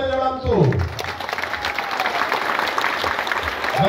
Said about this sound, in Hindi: आपण मानक बहुमूल्य मतामत को करताली माध्यम रे जणांतु